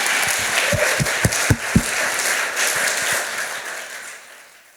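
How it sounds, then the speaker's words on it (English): A crowd at a congratulatory gathering applauds and cheers for an honoree, a dense wash of clapping with a few louder claps early on that slowly fades away toward the end. "I must say everybody give a special big up and a special cheer for Dinal."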